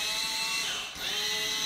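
A power drill boring holes into an apartment wall, a steady high whine running throughout with a brief dip in the middle, close and loud with no talking.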